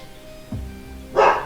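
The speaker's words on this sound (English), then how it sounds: "my dog decided that it was a really good time to start barking now" A pet dog at home barks, apparently at someone by the door: one deep woof, then a louder, brighter bark about half a second later, both close and short in a quiet room.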